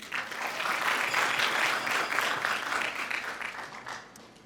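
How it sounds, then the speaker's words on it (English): An audience at a graduation ceremony and community awards event applauds the students and graduates, a full wash of many hands clapping together, swelling quickly and holding steady before tapering off near the end. "I just want to give a round of applause to the students and the graduates again,"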